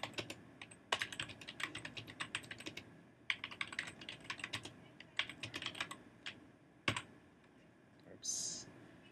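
Fingers tap out text on a computer keyboard in bursts of quick, crisp clicks separated by short pauses, close and moderately quiet, with a brief hiss near the end.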